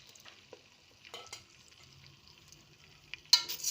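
Vermicelli fries in hot onion oil in a pot with a soft, faint sizzle, a few scraping stirs and a louder clatter and sizzle at the end.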